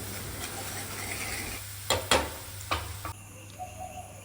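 Spice tempering for moong dal with turmeric sizzles softly in a pan under a steady low hum, broken by a few sharp metallic clinks of a spoon and a quieter stretch near the end.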